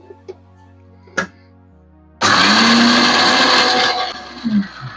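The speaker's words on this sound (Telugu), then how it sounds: "ఇది ఇప్పుడు మిక్సీ పెట్టేసుకుందాం" A few quiet kitchen knocks, then a mixer grinder grinding sambar powder, tomato and coconut pieces roars to life and runs loudly and steadily, its whir dipping slightly toward the end.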